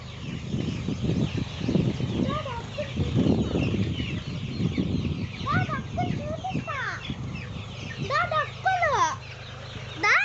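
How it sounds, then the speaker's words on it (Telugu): Ducks in a village near farm fields give repeated short, rising peeping calls, clustered toward the end. Low talking runs underneath for much of the time. "అవన్నీ బాతులే అన్నమాట"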